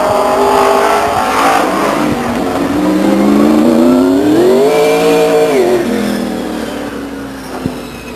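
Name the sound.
late model stock race car engines at Stockton 99 Speedway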